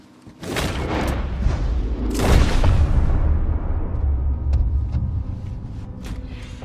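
A single gunshot from Red Dead Redemption 2 bursts out loud and close, followed by a second heavy report and a long rolling low rumble that slowly decays, with a few faint clicks near the end.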